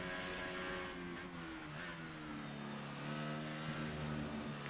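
Engine of an F1 car in the F1 2018 video game, setting off on a lap of Britain's circuit on intermediate tyres, with a steady, loud, high-pitched howl that stays continuous throughout.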